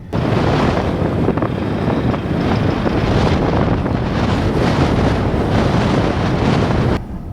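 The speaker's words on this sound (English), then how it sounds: "I don't know if you can hear that wind" Intense blizzard wind roars and buffets outside a van in a hurricane-force polar vortex storm, a loud, steady, gusting rush that continues alone with no talk until it suddenly drops near the end.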